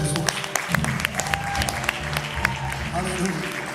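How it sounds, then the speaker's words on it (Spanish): Church congregation applauding loudly during a Spanish-language service, a dense steady wash of clapping mixed with voices throughout. "yo creo que te doy un aplauso fuerte a Cristo Jesús."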